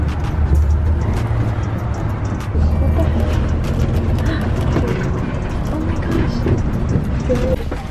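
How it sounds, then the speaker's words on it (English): Inside a Seoul city bus on route 402, a loud, steady low engine rumble and road roar continue throughout with rattles and bumps, and voices talk over the noise. "my first bus experience"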